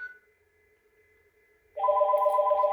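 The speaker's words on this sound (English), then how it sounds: "So that's ringing, and it's ringing on another adjacent phone here." After a quiet hum, a Yealink desk phone starts ringing loudly with a rapid warbling electronic trill, close by.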